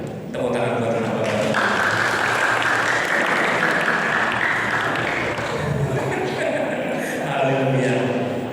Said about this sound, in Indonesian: Tepuk tangan buat Bapak.